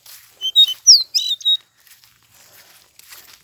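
Caged caboclinho seedeater sings a few bright, sharp chirps and short whistled notes, clustered near and clear in a quiet outdoor setting, then trailing off into faint scattered chirps.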